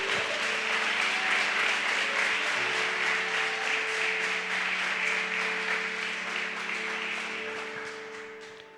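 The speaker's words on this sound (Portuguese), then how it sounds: "dê um forte aplauso ao Rei Jesus" A church audience claps for King Jesus, dense sustained applause with a steady held organ or keyboard chord underneath, tapering off toward the end.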